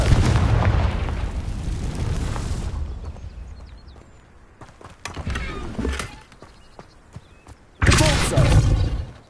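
Confringo spell explosions in the Hogwarts Legacy video game burst as heavy booms: one long roaring blast that fades, a few thumps and crackles, then a second sharp, loud blast near the end.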